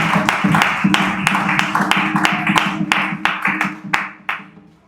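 Applause for Christ during an evangelical church service, a congregation clapping steadily with sharp individual hand claps standing out, some music or low voices underneath, thinning out toward the end.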